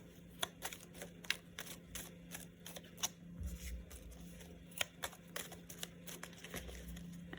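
Savings challenge cards are shuffled by hand in quick, faint, irregular flicks and taps, heard alone against a quiet room hum.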